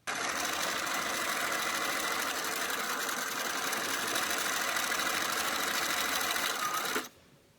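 A sewing machine runs steadily at high speed, quilting a t-shirt quilt, with a dense, continuous mechanical whir for about seven seconds, then stops abruptly.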